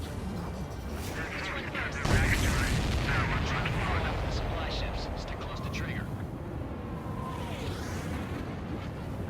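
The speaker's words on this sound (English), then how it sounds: "Did you see that explosion? Looks like that's one of them down." Explosions of supply ships in the video game Ace Combat 7, with a heavy boom near two seconds followed by a long rumbling roar of gunfire and blasts, all beneath radio chatter.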